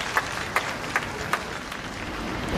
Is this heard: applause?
yes